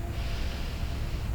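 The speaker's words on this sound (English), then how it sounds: "take a deep breath in through your nose" A slow, deep inhalation through the nose, a soft continuous airy rush close to the ear, steady and unbroken over about a second and a half in a quiet meditation setting.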